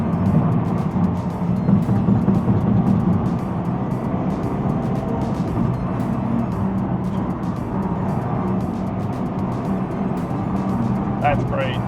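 A Ford Focus RS hot hatch engine while driving and downshifting, heard as a steady, loud, low rumble of engine and road noise from inside the car, holding fairly even throughout.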